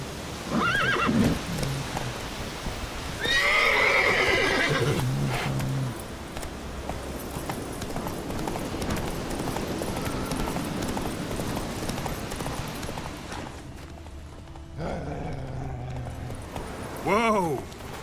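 Roach, the horse in Witcher 3: Wild Hunt, neighs and whinnies loudly while hooves clip-clop in a quick galloping rhythm, with a brief second whinny near the end and someone talking over parts of it.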